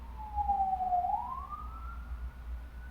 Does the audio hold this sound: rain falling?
no